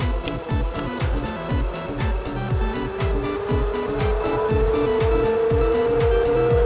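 A homemade electric bicycle powered by a hoverboard wheel hub motor rolls along without pedalling, its rising electric whine riding over rapid rhythmic thumping from the wheel, close and fairly loud.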